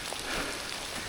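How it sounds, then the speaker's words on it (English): Rain falling outdoors in Scotland, a steady dense hiss of drops close by with no talk over it. "So the rain has picked up a little bit"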